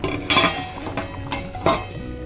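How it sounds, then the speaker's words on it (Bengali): A metal lid set onto a cooking pot of katla fish curry with eggplant and potato, producing a few close, bright clinks and clatters spread over a couple of seconds. "এবার আমি ঢেকে দেবো ওটা"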